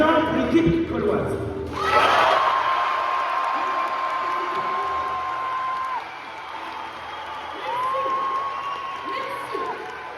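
Applause and cheering from a live audience backing the Gaulish team at a Gauls-versus-Romans match event, a broad wash of crowd noise sustained for several seconds with a voice speaking over it.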